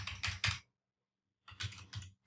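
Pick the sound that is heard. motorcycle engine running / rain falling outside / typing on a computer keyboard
typing on a computer keyboard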